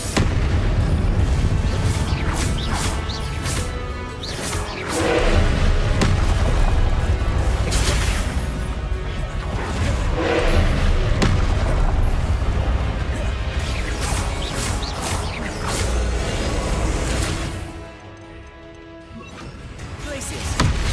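Confringo explosive spells blast repeatedly in Hogwarts Legacy, heavy booms and crashes over a dense rumble of game combat, with a brief lull near the end.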